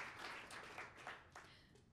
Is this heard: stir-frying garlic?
no